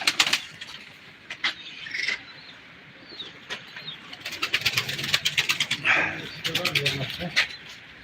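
Pigeons in a loft coo in low, intermittent bursts close by, with a few soft flutters, while people talk nearby.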